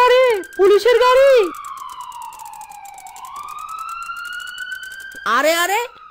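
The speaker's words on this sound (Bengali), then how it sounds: "ওরে বাবা রে, পুলিশের গাড়ি!" A cartoon police car siren wails loudly in long, smoothly rising and falling electronic tones, with animated voices speaking just before and right after it.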